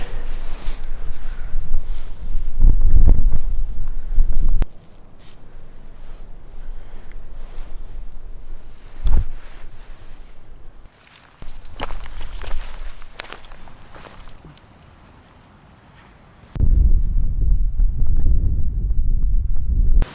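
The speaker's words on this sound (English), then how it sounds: "It is blowing outside." Strong wind gusts buffet the microphone at a lakeside campsite near Buttermere in the Lake District, loud rumbling bursts with quieter lulls and a calm stretch midway, plus a few footstep-like knocks.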